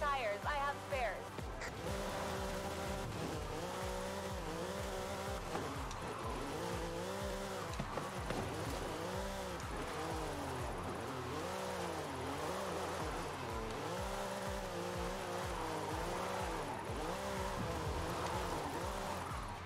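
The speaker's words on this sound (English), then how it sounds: "Drifting uphill is a little bit of a challenge" A car drifts uphill through city streets in Forza Horizon 5, its engine revving and rising and falling in steady waves with tire squeal beneath, sustained and continuous throughout.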